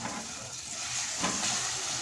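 An egg sizzles and crackles in a hot pan at home, a continuous bright frying hiss with occasional spits and pops, close and alone without talk.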